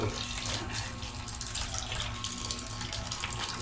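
Tap water runs in a steady, even rush into a sink as tobacco leaves are washed for homemade chewing tobacco, close and continuous with no talking.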